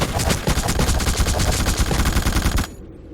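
A machine gun turret fires in The Suffering, a dense, rapid, loud burst of shots that runs without pause for over two seconds, then cuts off abruptly into quiet.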